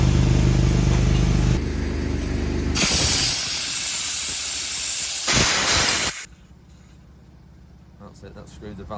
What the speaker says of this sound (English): you've got to put a lot of air in quickly, otherwise if you use a normal tyre inflator it will just come out.